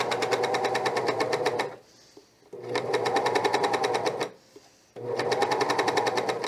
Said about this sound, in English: I'm gonna start sewing.